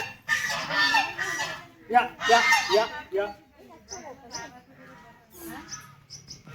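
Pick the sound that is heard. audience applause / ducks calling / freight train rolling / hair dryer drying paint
ducks calling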